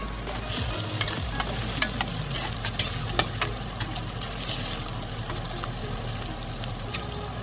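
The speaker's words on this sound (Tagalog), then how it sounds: "Tapos lagyan natin ang onions. Let's go add onions." Onions fry in butter and a little oil, giving a steady soft sizzle with scattered crisp pops and stirring clicks at close range; no voices.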